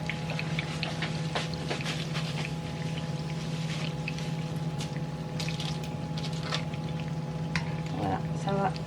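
Doughnuts fry in hot oil on a gas stove with the flame turned down, giving a steady bubbling sizzle with scattered pops and crackles all the way through, close and fairly loud.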